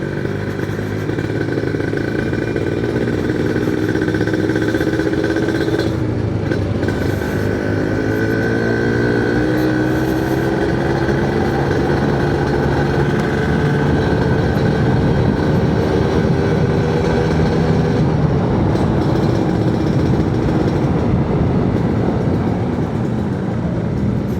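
A motorcycle engine runs on a Sunday group ride in Palembang, giving a steady, close drone throughout, with slight pitch shifts as it revs and settles, and no voices.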